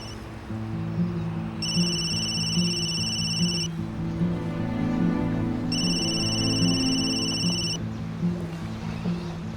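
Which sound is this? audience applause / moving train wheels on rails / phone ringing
phone ringing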